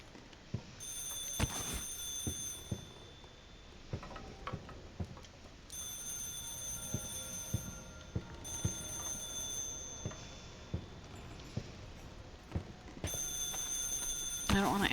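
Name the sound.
telephone ringing in video game Stygian: The Outer Gods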